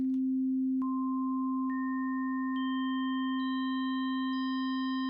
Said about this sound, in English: Let's try again, just adding harmonics at random and making a really weird dissonant chord.